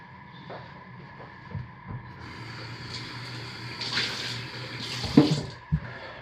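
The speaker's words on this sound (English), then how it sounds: "I am going to start by slowly and carefully pouring the lye water into our oils." Lye water pours and trickles gently into soap-making oils, faint splashes and a few soft knocks of the vessel, close by and quiet.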